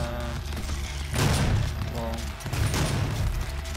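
Weapon fire in the video game DOOM, two heavy booming shots with a thudding low end and rumbling tail, loud against a busy game background.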